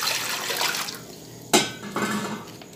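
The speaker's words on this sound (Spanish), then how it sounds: "Vamos a agregar agua." Water is poured into a cooking pot that holds chicken, a steady splashing stream with a sharp metallic knock from the pot partway through, close by in a kitchen.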